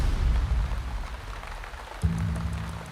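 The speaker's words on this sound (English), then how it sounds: "It started raining 1 hour ago. It's a proper wet condition." Rain falling during a motorcycle ride in wet conditions: a dense, steady hiss of rain with a low rumble, then a droning engine-like hum joins about two-thirds through.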